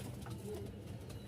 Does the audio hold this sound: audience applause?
no